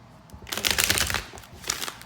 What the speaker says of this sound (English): I've shuffled, I've meditated.